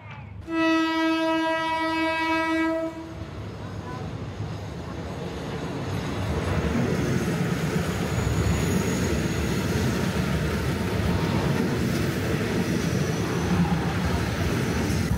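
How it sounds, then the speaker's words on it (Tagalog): A train rumbles past close by in Talat, its horn blaring with a loud steady tone at the start before the heavy rolling clatter of wheels and cars builds and continues to the end. "Kumbaga yung pinaka-warning niya lang is yung yung tunog ng train tsaka yung busina niya."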